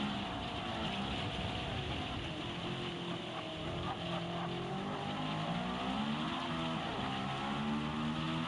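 A race car engine is heard from outside the car as it drones steadily and loudly for several seconds, with its pitch rising and falling as it passes on track.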